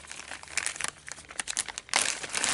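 Packs of puzzle cube stickers handled close up, with quick crinkling and crumpling of plastic packaging in irregular bursts, louder toward the end.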